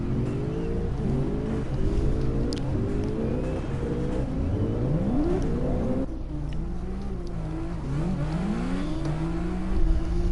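A drift car in CarX Drift Racing Online pulls back into the pit zone past a BRZ, its engine note rising and falling in repeated revving sweeps over a steady mechanical drone and tire noise, with no voices.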